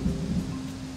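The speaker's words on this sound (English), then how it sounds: "it starts pouring down rain." Heavy rain pours onto an RV while thunder rumbles, a steady low roaring wash with no voices over it.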